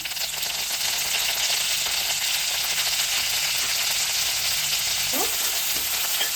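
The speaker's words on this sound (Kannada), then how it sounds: "1 ಬೌಲಲ್ಲಿ ಫುಲ್ 1 ಬೌಲ್ ಕರಿಬೇವಿನ ಸೊಪ್ಪು ಹಾಕ್ತಾಯಿದ್ದೀನಿ" Full bowl of curry leaves crackling and sizzling steadily in hot oil for rava khara pongal, a loud continuous fry close up with no talking.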